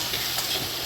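Potatoes and eggplant frying in oil in a pan, a dense steady close sizzle that fills the brief moment without speech.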